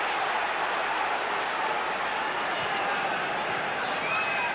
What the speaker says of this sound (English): Beckham, it's got the crowd going.